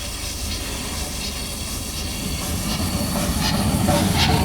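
Midland Compound steam locomotive number 2631, built in 1902, gives a continuous loud broadband steam hiss that swells slightly toward the end, with faint rhythmic clatter beneath it.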